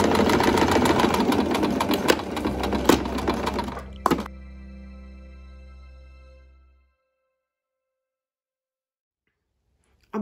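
A sewing machine runs fast stitching a folded fabric border at a neckline, a steady whirring hum with a couple of thunks, then slowing and winding down to silence.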